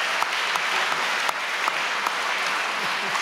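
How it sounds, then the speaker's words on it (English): An audience at a music festival interview with Margaret Atwood bursts into rapturous applause, a thick, continuous roar of many hands clapping with a few sharper individual claps poking through. "I'm worried about this rapturous applause."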